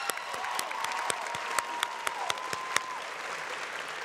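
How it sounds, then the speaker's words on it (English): Audience applause fills a high school graduation ceremony hall, steady and dense from a large crowd with a few sharper individual claps and whistle-like tones standing out, sustained throughout. "Give these students a round of applause."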